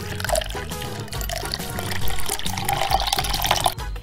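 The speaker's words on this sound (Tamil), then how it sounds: "இப்ப கேரட்டை வந்து கிண்ணத்துல வச்சு கொக்கோ கோலா ஊத்திக்கலாம்." Coca-Cola being poured over a carrot in a bowl, a steady splashing, fizzing liquid pour running throughout, close and fairly loud, with no talking.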